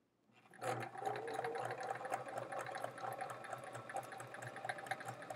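A sewing machine stitching half-square triangles for a quilt starts up and runs steadily with a fast, even mechanical whir and rhythmic pulsing, close and moderately loud, with no talking.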